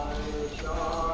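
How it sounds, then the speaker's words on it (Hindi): Goats walking across a railway station platform, hooves clip-clopping in a brief uneven patter against steady station background noise. "बकरी बकरा चल रहे हैं।"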